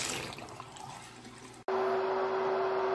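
Water draining out in an animated clay show, a rushing gurgle that fades, a brief cut, then a louder steady rush with a clear tonal hum.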